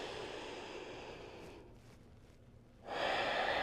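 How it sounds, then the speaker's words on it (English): A slow, deep breath drawn in and released during a calm yoga session, a soft airy inhale fading into a quiet pause before a stronger, breathy exhale rushes out close by. "Take 2 big breaths with me here."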